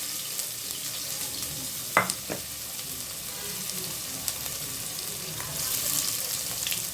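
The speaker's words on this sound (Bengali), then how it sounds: "এখন আমি এগুলোকে বাগার দিব।" Hot oil tempering (baghar) with dried chilies and onion added over haleem, a soft steady sizzle with a couple of sharp clinks of utensils, fairly quiet and close.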